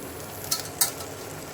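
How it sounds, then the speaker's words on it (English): Strained noodles stirred into cooked spices in a hot pan give a soft, even sizzle, broken by two quick metallic scrapes of the spoon against the pan, with no talking. "now I am going to add the strained noodles in it"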